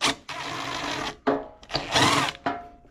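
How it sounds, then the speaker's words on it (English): An 11 mm wrench working nuts off the front of an Ariens riding mower carburetor, several short bursts of metallic ratcheting and scraping separated by brief pauses, close up. "We have an 11 millimeter to take off the two nuts from the front."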